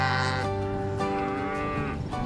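Cattle on a Texas ranch let out a long, deep moo that fills the whole moment, loud and close, with a second lowing call overlapping toward the end and no voices.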